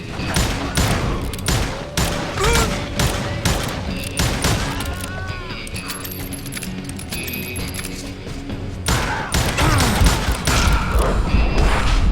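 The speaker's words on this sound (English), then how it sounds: "Who's shooting at us? We're under fire!" A rapid, dense volley of gunshots from the Wild West shooter game Call of Juarez Gunslinger cracks continuously for the whole stretch, loud and close, with overlapping reports and occasional metallic ricochet-like pings.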